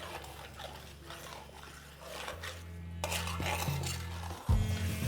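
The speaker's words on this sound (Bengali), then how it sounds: "এটাকে ভালো করে একবার মিশিয়ে নিন।" Mutton yakhni pulao stirred in a pot, with a spoon scraping and clinking against the metal in steady, close strokes alongside a low background hum, building to a louder clatter near the end.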